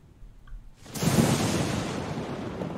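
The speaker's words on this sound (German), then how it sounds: "Gewitter." A storm in the video game Fall of Porcupine arrives as a sudden swell of broad rushing wind and rain noise, steady and enveloping for the rest of the moment, with no voices.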